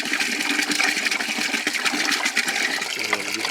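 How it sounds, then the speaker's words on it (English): Water gushes steadily from an off-grid duck pool after its drain plug is pulled, a loud continuous rushing and splashing that fills the whole stretch without pause. "we're gonna pull this plug up here"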